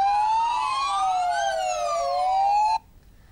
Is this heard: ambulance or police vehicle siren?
yes